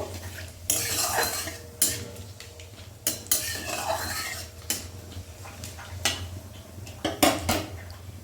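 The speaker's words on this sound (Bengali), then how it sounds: "এবারে জিরেটাও ভাজা হয়ে গেছে" Whole spices with cumin, cardamom, cloves and cinnamon frying in a pan for Bengali chana dal, stirred with a metal spoon that scrapes and clinks against the pan in repeated strokes over a low sizzle, close and with no voices.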